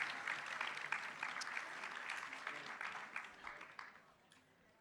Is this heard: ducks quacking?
no